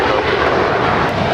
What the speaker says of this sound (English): This is JetBlue Airways Flight 1700 departing to Fort Lauderdale